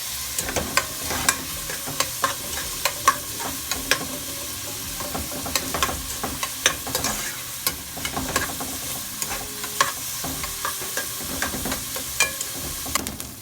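Golden fried onions with chopped garlic, bell pepper and leek sizzle in a pan, with a continuous soft frying hiss broken by frequent sharp clicks and scrapes of a utensil stirring the mix.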